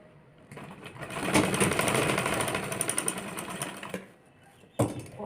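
A sewing machine runs in a steady rapid whir while stitching a blouse, building up, holding, then stopping, with a short mechanical clack near the end.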